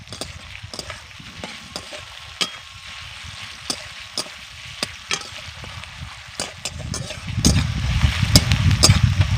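Onions softening with salt in a frying pan, a continuous sizzle marked by regular sharp scraping strokes of a stirring spoon, growing louder and denser toward the end, close and without speech.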